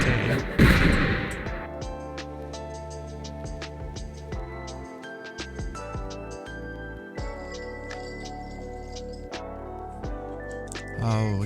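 A rocket Quinx special attack in the Ro-Ghoul video game fires a string of sharp, punchy blasts and thuds over layered synthetic tones, with a loud rushing burst at the start and scattered impacts after it.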